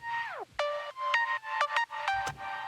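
Bright synth pluck notes with an octave layer, from a self-made preset sound bank, in a future house remix of a song. A downward pitch sweep opens, then a string of short, tonal pluck hits, loud and alone.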